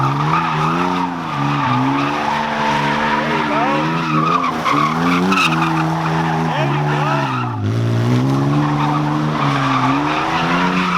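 A BMW E36 slides with its tires squealing in long, wavering howls over a droning engine, loud and sustained, with short dips and voices in the background.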